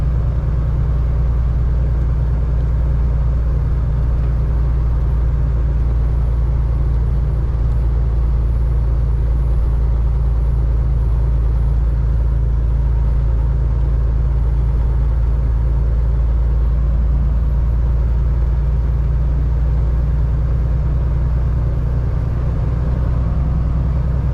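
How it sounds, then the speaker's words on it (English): A loaded Peterbilt truck overtakes an empty Kenworth truck on a highway, heard as a steady, loud low diesel rumble and road drone that holds for the whole stretch with no voices. "A loaded Peterbilt is passing an empty Kenworth."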